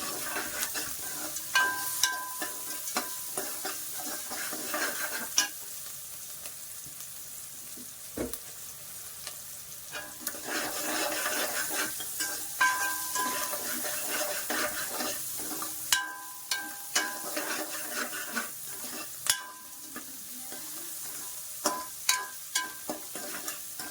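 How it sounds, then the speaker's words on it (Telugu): Onions and green chillies frying in a pan for aloo kurma, a steady close sizzle with repeated stirring scrapes and clinks throughout, no voices. "ఉల్లిపాయ అనేది మనకు బాగా ఫ్రై అవ్వాలండి"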